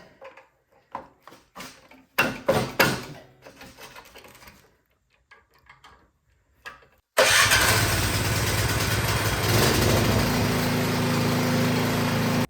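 Snow blower engine with a newly replaced carburetor, preceded by scattered clicks and handling noises, then starting up and running loud and steady for the remaining seconds.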